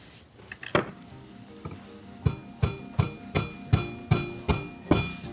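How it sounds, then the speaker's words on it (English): A round hammer taps a dent out from the back of a hollow metal piece in a repair workshop, with a few scattered light knocks followed by a steady series of about eight firm, ringing blows at a regular rhythm, close and clear. "I've got a round hammer which hopefully will fit inside, and I'm going to try and tap that dent out from the back"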